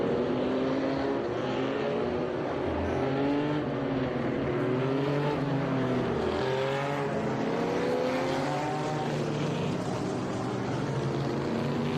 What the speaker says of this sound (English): Beautiful sight and sound here as we get some real beautiful engine sounds